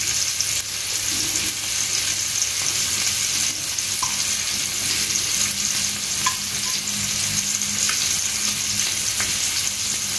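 Fish pieces are added to a simmering curry in a pot, with a continuous loud sizzle and frying hiss, a few soft stirring clinks throughout, and no talking.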